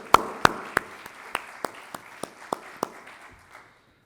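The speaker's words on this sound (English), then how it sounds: "I think a round of applause for all of you." A few people clapping sparsely at a fellowship convening and convocation, a handful of distinct, evenly spaced claps that thin out and stop within a few seconds.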